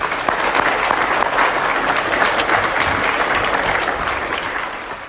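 Sustained applause from a school audience at a presentation day ceremony, dense steady clapping filling the hall at even loudness throughout, with a faint murmur of the crowd underneath.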